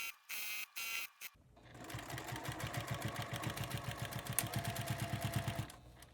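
A sewing machine stitches binding onto a quilt in a fast, even run of mechanical clicks and hum after some brief rustling, close and steady for several seconds before stopping.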